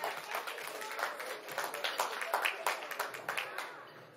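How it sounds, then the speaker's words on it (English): Crowd applause at a memorial celebration, steady clapping from many hands with a few louder individual claps, sustained for several seconds before easing. "Please, can you give her a round of applause once again?"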